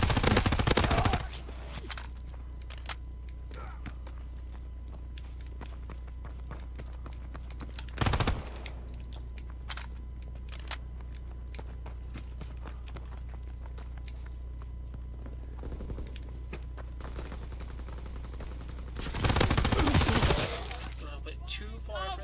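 Gun firing in Call of Duty WW2, mostly sparse scattered shots over steady game background, with louder bursts of fire near the start, around the middle and toward the end.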